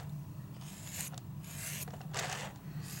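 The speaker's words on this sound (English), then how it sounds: "I'm gonna use the rib, and I'm gonna be scraping at an angle" A rib tool scraping at an angle across the surface of a clay coil pot, producing several soft, rasping strokes in bursts, close and quiet, with no one talking.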